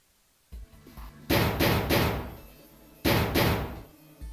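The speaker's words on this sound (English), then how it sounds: "The door won't open!" In the video game 999, a door rattles and thumps shut in two loud bursts of rapid banging and clattering, close and harsh, separated by a short pause, with no talk.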